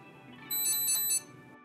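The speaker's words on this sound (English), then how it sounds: "The Edge device beeps one time when the first vehicle is detected." Alert tone from a Garmin Edge cycling computer paired with a Varia RCT715 rear radar, signaling one approaching vehicle: a short, clear run of three quick high beeps, close and alone over a quiet background.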